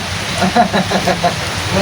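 Rain falls outdoors as a steady hiss of drops, with faint voices murmuring underneath.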